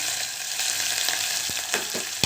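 Onion and green chilies hitting hot oil already tempered with mustard and cumin seeds for a tomato pepper rasam, a steady close sizzle and fry with a few sharp crackles and stirring clinks, no talk.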